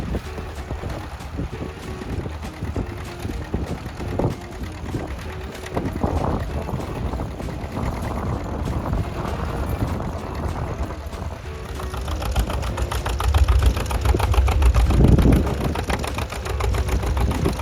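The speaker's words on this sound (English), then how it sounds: "Art Uhlberg of South Dakota competing with his late-styled John Deere A and a John Deere Model 4D plow" Vintage John Deere A tractors pull plows, including a John Deere Model 4D, at a national plowing contest in Arlington, South Dakota, their engines chugging in the distance under steady wind noise, growing louder toward the end.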